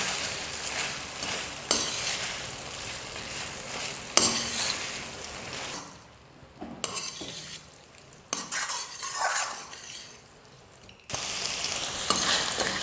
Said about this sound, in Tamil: ரெண்டு நிமிஷம் நான் வந்து நல்லா ஃப்ரை பண்ணிக்கிட்டேன்